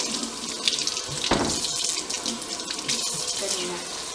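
Cold water runs from a kitchen tap into a bowl of ice for cooling boiled eggs, a steady splashing hiss close by with a brief louder gush partway through.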